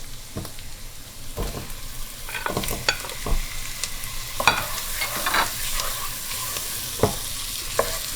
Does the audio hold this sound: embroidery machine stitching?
no